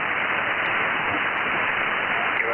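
Shortwave amateur radio reception on the 20 meter band, a steady wash of hiss and static filling the whole clip with only faint traces of a distant signal buried underneath, no clear voice standing out.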